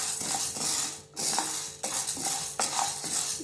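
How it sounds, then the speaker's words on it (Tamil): Black urad dal is dry-roasted in a pan over low heat, with a spatula stirring and scraping in rhythmic strokes under the rattle of grains. It sounds close and repeats about every second, with no talking. "வாணல்ல நல்லா ஃப்ரை பண்ணீங்கனா பச்சை வாசனை போற வரைக்கும் நல்லா வறுத்து எடுத்துக்கோங்க"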